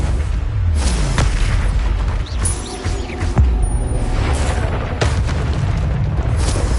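Confringo explosive spell blasts in Hogwarts Legacy, loud, heavy booms with rumbling tails, one after another over continuous game noise, including a sharp hit in the middle.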